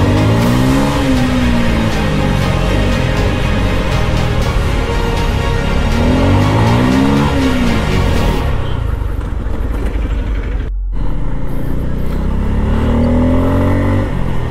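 Heavy road traffic on a busy Jammu city street, with cars and motorbikes passing close by, engines revving and accelerating in repeated loud surges.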